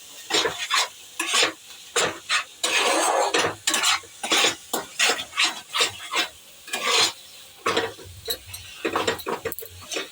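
Chicken bharta masala with a little cumin powder stirred hard while frying in a pan: rapid repeated close scraping strokes over a faint sizzle, loud and busy throughout, with no talking.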